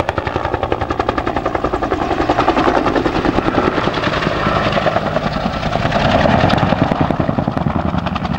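RNZAF Iroquois helicopter flying nearby with a loud, rapid rotor thump, evenly pulsing throughout and swelling slightly as it passes, with no talking.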